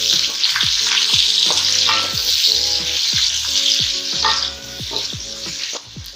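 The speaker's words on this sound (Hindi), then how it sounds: "अब इनको भी मैं साथ ही फ्राई कर लूँगी।" Onions fry in hot oil with garam masala for a mutton masala gravy, giving a dense, steady sizzle that runs unbroken and fairly loud, with a low tonal hum beneath it.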